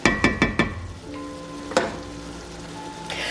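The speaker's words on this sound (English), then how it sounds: "I'm just gonna let this cook a little bit more until the ground beef is fully cooked" Ground beef fries in a pot with a steady sizzle, opened by a quick run of four scraping stirs and another sharp stir partway through, close and clear with no talking.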